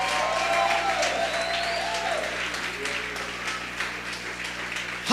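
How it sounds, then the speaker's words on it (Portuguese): Church congregation applauding together, a dense, loud, continuous wash of clapping filling the room, with a few brief tonal sounds in the background and a sharp bump at the very end. "dá um salva de palmas a Jesus aí."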